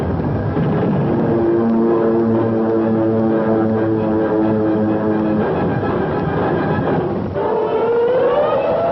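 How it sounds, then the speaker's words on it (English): Air raid sirens wail loudly over German fighter airfields, rising and falling in long sustained tones, overlapping one another before one swoops upward near the end. "Alarm sirens wail over the German fighter fields"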